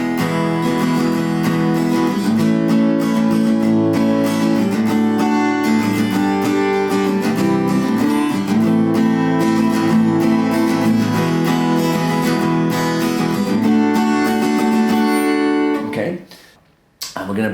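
Acoustic guitar strumming a song's chord progression, full steady chords played close and loud for about sixteen seconds before stopping abruptly, with no talk over it.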